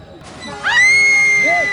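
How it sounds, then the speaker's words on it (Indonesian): A person screams in a school stage drama, a loud, rising and sustained wail held for over a second, followed by a shorter falling cry, heard over room noise. "di mana suara orang menjerit tadi, Pak?"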